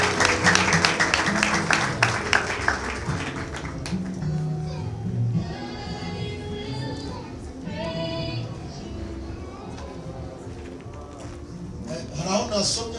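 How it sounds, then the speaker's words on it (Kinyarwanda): A church congregation gives brief applause, with claps and the voices of children and adults fading quickly into chatter and murmuring. Claps return faintly near the end. "reka tubakomera amashyi mu izina rya Yesu"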